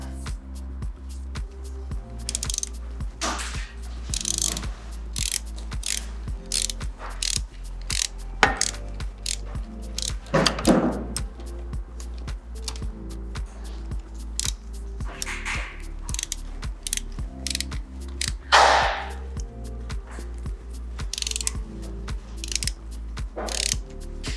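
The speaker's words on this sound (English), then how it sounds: "And this bolt, you don't want to over tighten it, maybe 10 foot-pounds at the most." A hand ratchet tightens a bolt on the front wheel of an SG400 motorcycle, clicking in a fast, steady, close-up rhythm for over twenty seconds, with occasional louder knocks and rustles mixed in.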